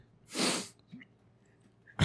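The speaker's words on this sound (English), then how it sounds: "I had to sneeze" A single sharp sneeze, close and loud, followed by a short breathy sniff and another burst at the very end.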